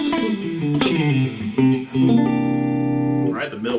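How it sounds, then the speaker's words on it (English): Electric guitar with the neck and middle pickups combined, a short run of picked notes leading into a strummed chord that rings out clean and steady, played alone without speech. "Now I'm going to use the neck pickup and the middle pickup."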